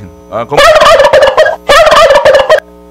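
A turkey on a farm gobbles loudly and close by, two rapid rattling bursts separated by a short pause, with a brief softer call before them.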